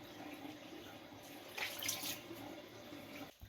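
Running tap water rinses facial cleanser off the face at a sink, a faint steady splash with a brief louder burst of splashing near the middle before the flow stops.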